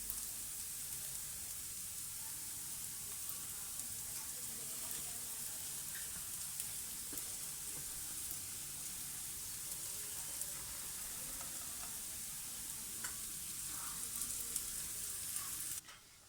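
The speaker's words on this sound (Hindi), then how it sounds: "इसमें अब हम कबाब रख देंगे जो हमने फ्राई किए थे।" Fried radish kebabs sizzle steadily in a hot pan, making a continuous crackling hiss with occasional pops that lasts until it cuts off abruptly at the end.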